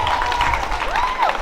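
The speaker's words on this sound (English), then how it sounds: "Please, a round of applause for the Igbo group." At a college cultural day, an audience applauds the winning Igbo group with a brief burst of crowd clapping and cheering, and a shrill whistle-like tone rises above it.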